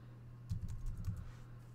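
Keystrokes on a computer keyboard as a password is entered, a short burst of several soft clicks in the middle of an otherwise quiet stretch with low steady hum underneath.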